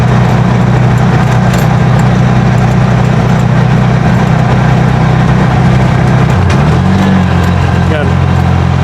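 A Bajaj RE auto-rickshaw tricycle engine runs steadily with a loud low drone, labouring on an uphill climb in Cagayan; the pitch dips briefly near the end before settling, with a voice talking over it.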